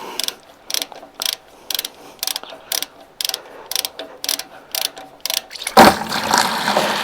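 A ratchet turns a pipe plug socket on an IH Farmall Cub tractor, with about a dozen evenly spaced bursts of close, crisp clicking. A short splash of liquid follows at the end.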